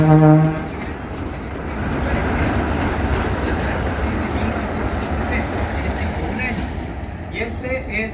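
A train rumbles past at a Chilean railway heritage day event, starting with a short horn blast and then a steady, broad roar with faint squeals as the cars go by.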